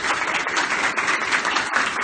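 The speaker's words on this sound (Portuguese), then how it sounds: "Eu vou pedir a vocês uma salva de palmas para ele." A brief burst of dense audience applause welcoming Professor Luiz Hosannah to the stage, many hands clapping together at a steady, fairly loud level.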